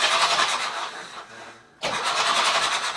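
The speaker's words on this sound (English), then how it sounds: "Here's the engine turning over." A boat engine with no injectors fitted and WD-40 in the bores is cranked over, giving a loud, steady mechanical churn that dips briefly, then resumes just as strongly.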